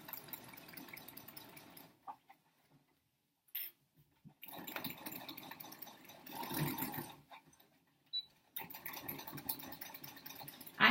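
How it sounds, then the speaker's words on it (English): A sewing machine with a walking foot stitches through several layers of a tote bag in steady mechanical bursts that stop and start a few times, close and fairly quiet. "I have a walking foot on my machine right now just to help my sewing machine handle all the layers"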